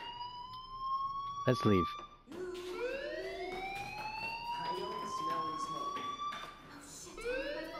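A fire alarm in the Life Is Strange video game gives loud, repeated rising wails with a brief pulsing burst, sounding steadily throughout while a voice speaks briefly.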